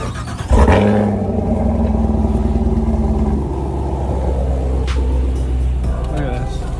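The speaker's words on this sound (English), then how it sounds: "Cold start." An Audi TT engine cold-starts with a sharp crank and catch, then settles into a loud, steady, rumbling high idle that holds close by. A brief click or thump cuts through near the end.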